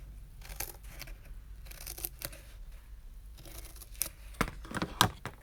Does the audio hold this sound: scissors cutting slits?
yes